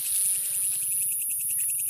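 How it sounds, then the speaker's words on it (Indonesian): Crickets chirp steadily in a dense, rhythmic trill at close range during a nighttime hunt in the field, a continuous insect chorus with no voices. "Nah, ini saya menemukan jangkrik."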